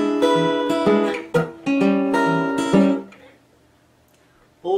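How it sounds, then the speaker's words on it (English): Fingerstyle guitar in a Deep River Blues lesson: the thumb strikes the 4th string hard so two strings ring together, in a few bright plucked notes that sustain and fade to near silence before one more pluck at the end. "So we can approximate this sound by hitting that 4th string with our thumb quite hard"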